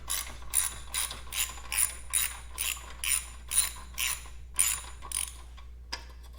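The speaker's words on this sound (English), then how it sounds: "First we'll just undo this 6mm Allen on this clamp." A 6mm Allen bolt on a Triumph Bonneville T120 exhaust clamp is loosened with a ratcheting tool, a dozen quick metallic clicking bursts in steady rhythm, close and fairly quiet, with no talk.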